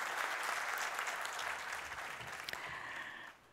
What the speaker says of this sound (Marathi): त्यांच्यासाठी जोरदार टाळ्या झाल्या पाहिजे